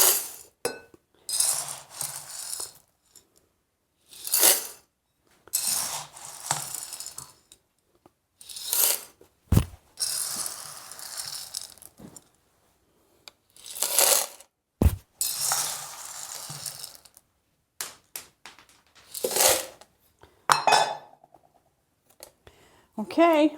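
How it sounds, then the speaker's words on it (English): Parched corn kernels poured into the hopper of a hand-operated grain mill, heard as sharp rattling clinks in short bursts separated by pauses, fairly close. "So I'm loading it in the hopper"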